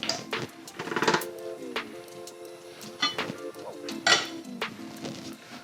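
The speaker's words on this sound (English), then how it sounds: "All you're gonna do is stir this until it's well combined." A spoon clinks and scrapes against a bowl while a mixture for honey garlic chicken meatballs is stirred, giving intermittent close taps and rattles over a quiet kitchen background, without speech.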